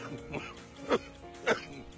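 A news anchor coughs and clears the throat during a broadcast, with two sharp, close coughs standing out above low background sound.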